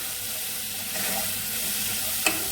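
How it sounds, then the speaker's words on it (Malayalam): Bitter gourd sautéing with salt in a pan, a steady sizzle and frying hiss with soft stirring throughout and one sharp utensil tap near the end. "ആവശ്യത്തിനുള്ള ഉപ്പിട്ട് കൊടുക്കേ എന്നിട്ട് നന്നായിട്ട് ഒന്ന് മിക്സ് ചെയ്ത് ഇതൊന്ന് വഴണ്ട് വരണം"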